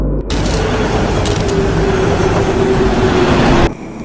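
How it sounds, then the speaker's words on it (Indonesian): A train rushes through a dark tunnel in the film Train to Busan, a loud, dense, steady roar with a faint whine that runs for several seconds and then cuts off abruptly. "Namun tiba-tiba kereta melewati terowongan yang gelap."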